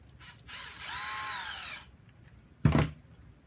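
Power drill used as a cutter to trim a 6-32 screw to length, with a short rising whine of the motor near at hand and then a brief sharp burst as the screw is cut.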